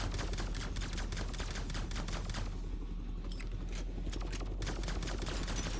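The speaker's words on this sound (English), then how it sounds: "So right now I'm shooting this ship." Rapid, continuous gunfire in the video game Polaris pours onto a ship as a steady rattling stream of shots, fairly quiet and dense with only a brief thinning midway.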